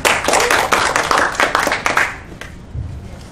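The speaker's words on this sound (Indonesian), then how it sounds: "Tepuk tangan buat kita semua." A small group of people clap together in a room in a quick, uneven flurry of distinct hand claps that fades after about two seconds, followed by brief murmuring.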